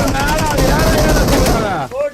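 Dense, rapid gunfire from a battle-royale video game match, loud and continuous with overlapping shots, and a voice talking over it before a brief dip near the end.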